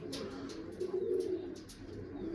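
A pigeon coos softly at close range beside a pigeon loft, a few low, rolling coos rising and falling in a short sequence with no talk.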